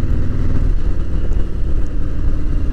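A Harley-Davidson motorcycle rides along Route 66 near Death Valley, its engine giving a deep, continuous rumble mixed with wind roar, steady and close throughout.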